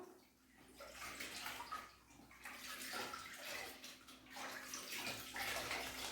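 Tap water runs and splashes as microfibre cloths are soaked under it, a soft, close wash of flowing water that swells and dips several times.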